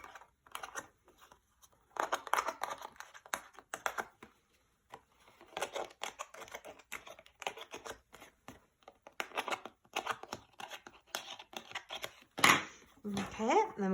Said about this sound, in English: we're going to slide the scissors in and just snip away at the flowers